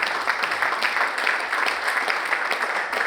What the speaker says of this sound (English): Can we give Ronald a round of applause as he comes forward?